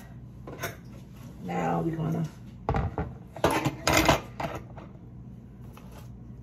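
Pound cake ingredients are mixed in a bowl with a utensil, giving scattered clinks and scrapes against the bowl in short bursts while a person talks.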